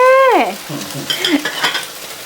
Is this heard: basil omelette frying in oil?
yes